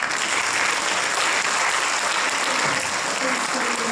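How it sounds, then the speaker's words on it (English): A crowd at a 2019 high school senior awards ceremony applauds graduates, a dense, steady round of clapping that fills the hall from start to finish. "give yourselves a round of applause"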